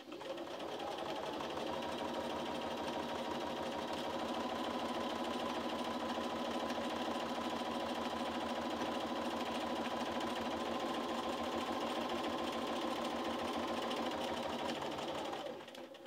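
A Bernina sewing machine with a walking foot stitches a quilt in one steady, fast, continuous mechanical whir with a rapid needle rhythm, close and even from start to stop.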